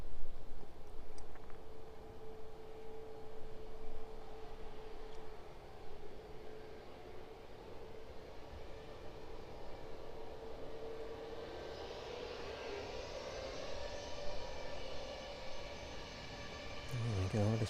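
A fixed-wing airliner on the Krakow service lines up on runway 09 and spools up its engines for takeoff, a steady distant roar that builds into a broad rushing swell near the end.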